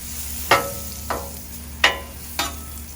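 A chunk of butter on a hot griddle for a Spam and cheese sandwich gives a low, steady sizzle, broken by four sharp scraping strokes of a spatula spaced about half a second apart, with no talking.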